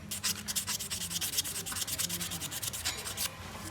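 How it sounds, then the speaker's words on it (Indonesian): A Toyota Yaris 2015 engine's VVT control part is sanded by hand, rapid repeated scraping strokes in quick rhythm, close and fairly quiet, with no talk. "Kita haluskan dulu ini."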